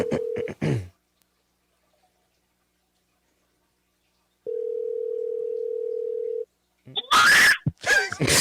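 A phone call ringing out: a steady tone sounds for about two seconds after a pause, with brief talk before and after.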